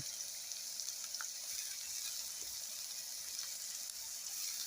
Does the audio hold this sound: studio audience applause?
no